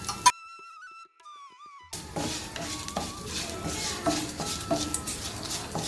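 After a brief whistling tone, curry leaves and buttermilk chillies frying in a pan are tossed with a spatula, giving clattering scrapes against the metal over a light sizzle, close by.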